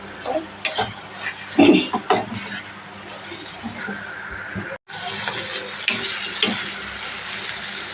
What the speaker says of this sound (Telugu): మనకి బీరకాయ ఫ్రై అయితే అయిపోయింది అనమాట